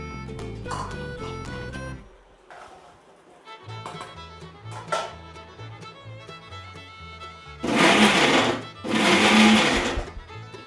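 A kitchen mixer grinder blitzing onion, ginger and garlic in two loud, roaring bursts near the end, with background music playing before and between them.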